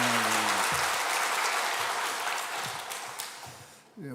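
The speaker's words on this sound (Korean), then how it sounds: "박수 한번 드리고" A church congregation gives a warm round of applause after the choir, many hands clapping steadily and filling the sanctuary before the clapping tapers off near the end, with a voice briefly heard at the start.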